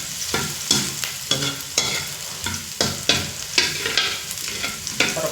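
Aromatics sauté in oil toward golden brown with a loud sizzle, while a spatula scrapes the pan in a regular rhythm of strokes about every half second.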